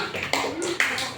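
A class clapping hands together in a classroom, two or three quick sharp claps close by, mixed with a voice talking.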